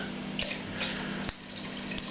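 Lemon and lime juice is poured into a pot holding 7 litres of water near the boil, making a steady liquid pour with a light splash and occasional drips over a low background hum.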